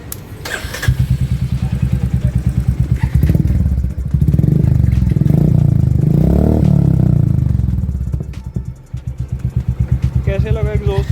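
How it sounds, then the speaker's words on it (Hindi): Royal Enfield Meteor 350 motorcycle fitted with a new exhaust, its single-cylinder engine idling in a steady rapid thump, rising into a louder revving swell midway before settling back to the loud near idle. "एग्जॉस्ट लग गया अभी, और अभी आपको चला कर दिखाते हैं।"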